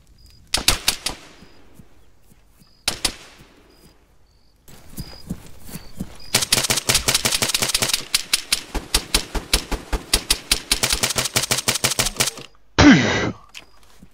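Gunfire in ArmA 3, starting with a few isolated shots, then a long steady stream of rapid automatic fire, loud and close, ending with a short burst of noise.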